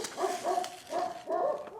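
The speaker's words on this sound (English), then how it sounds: "Please pardon the constant barking dogs" Dogs barking in a garden, a steady series of four loud, repeated bark bursts at an even rhythm, with no talk.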